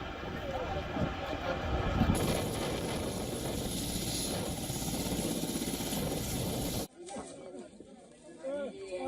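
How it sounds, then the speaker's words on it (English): A helicopter carrying casualties lands on a runway, its rotor and turbine drone steady and fairly loud under a news narration before cutting away to quieter talk. "Other images showing a helicopter carrying casualties landing on the runway"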